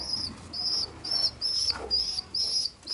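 Pigeon squabs at a loft chirp in a steady series of thin, high peeping calls, each about half a second long. The calls are moderately close and sound alone over a faint background.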